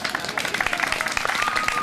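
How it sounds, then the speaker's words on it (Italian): Spectators at a children's running race clap for a starter just before a relay begins, a lively ripple of applause with an announcer talking over it. "Un applauso ad Alessia."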